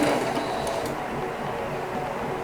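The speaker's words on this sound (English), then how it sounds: "So just start stitching here around the middle section." A sewing machine stitches fabric for a dog bed in a continuous, even mechanical hum at moderate loudness, close by and without pauses.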